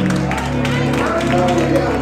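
A church congregation claps together in a loud, continuous wash of applause mixed with crowd voices and a sustained tone underneath.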